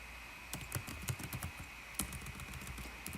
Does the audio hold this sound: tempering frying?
no